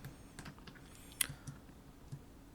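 Computer keyboard typing and mouse clicks while selecting parts in 3D modeling software: a few soft, scattered clicks and taps, quiet and close, with one sharper click near the middle and no talking.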